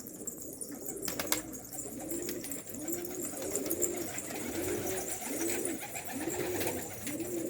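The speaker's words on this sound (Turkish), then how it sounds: "Bizim yuvalaca ötüyor ona." A yuvalaca dove coos in a slow, regular series of soft repeated calls, close and moderately loud over faint background noise, with no talking.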